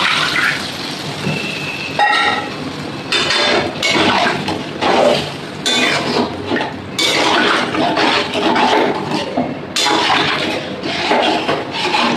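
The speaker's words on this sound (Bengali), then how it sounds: "এবার আমি মাংসটা সেদ্ধ হওয়ার মতো জল দিয়ে দেবো।" Water splashes and pours into a cooking pot of browned, spice-fried meat, with a steady rushing stream broken by metallic clanks of the pot and utensils, close and fairly loud, no voices.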